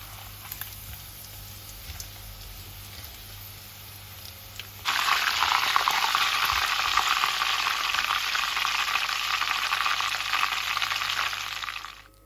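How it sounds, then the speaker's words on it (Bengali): Quiet kitchen background, then a sudden loud, steady sizzle of chicken cutlets hitting hot oil for deep frying that continues for several seconds before cutting off. "সবগুলো চিকেন সুন্দরভাবে ভেজে নিয়েছি"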